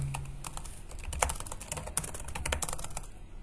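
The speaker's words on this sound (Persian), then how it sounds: "یک کامند تایپ کنید" Rapid, uneven keystrokes clatter on a computer keyboard while a network command is entered, close and clear with no talking over them.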